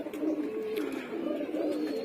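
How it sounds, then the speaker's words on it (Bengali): Pigeons coo steadily and close by in the early morning, soft repeated throaty calls rising and falling over about two seconds, while female pigeons are let out to fly. "তো এই যে কবুতরগুলো"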